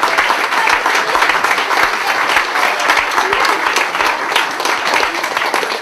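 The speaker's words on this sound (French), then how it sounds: "On peut tous les applaudir." A crowd at a town sports festival claps for a youth swimming team, a thick, steady wash of applause from many hands with sharp claps close by, unbroken throughout.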